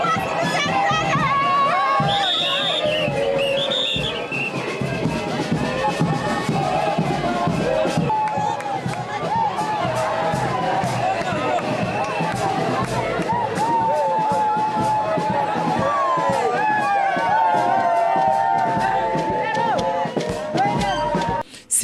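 A large, noisy crowd gathered for the inauguration of a modern market in Popokabaka keeps up a steady roar of shouting, cheering and chanting voices, with children's cries mixed in throughout.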